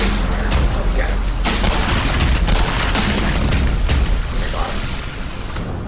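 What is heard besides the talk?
grenade explosions in the video game Black Mesa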